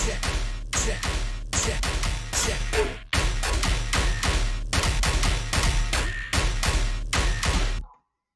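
A loud, heavy dubstep drop plays with punchy drum sample hits, booming bass and gritty bursts in a driving rhythm, ending abruptly.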